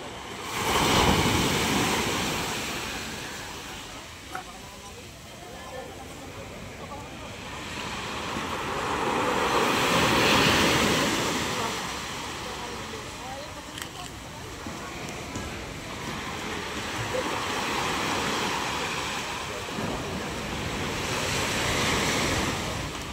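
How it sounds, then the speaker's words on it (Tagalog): Sea waves slosh and surge around a small boat in open water, swelling in slow rolling waves over steady wind buffeting the microphone, with someone talking at times. "Yan, may alon na ulit."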